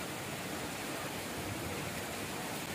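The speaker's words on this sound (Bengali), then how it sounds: "এতক্ষণ টিপ টিপ করে বৃষ্টি হচ্ছিল, এখন একদম জোরে শুরু হয়ে গেছে" Heavy rain driven by wind pours down in a dense, even roar that holds steady throughout, with no voices.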